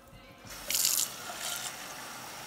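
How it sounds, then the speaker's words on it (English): Water being changed in a jar holding rooted pineapple top cuttings: a short burst of pouring and splashing water, then a quieter second trickle, close and clear with no talking. "So we're just gonna switch the water out."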